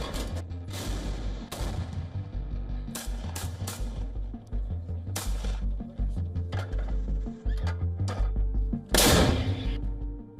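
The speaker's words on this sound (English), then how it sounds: "Buzz of drones and boom of explosions drown out midnight celebrations." Drone and missile strikes during the Russia–Ukraine war on New Year's night: repeated heavy booms and sharp blasts, some near and loud, others duller, coming in irregular bursts with no voices.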